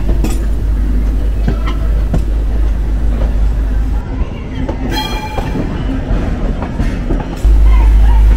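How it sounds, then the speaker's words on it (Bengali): Madhumati Express train pulling into Kamalapur railway station in Dhaka, with loud steady rumble, rhythmic wheel clatter and metallic clinks close by, a horn-like tone briefly rising mid-way, and faint voices beneath. "অবশেষে মধুমতি এক্সপ্রেস তার যাত্রা শেষ করার জন্য চলে আসলো তার গন্তব্য রেলওয়ে স্টেশন ঢাকার কমলাপুর রেলওয়ে স্টেশনে"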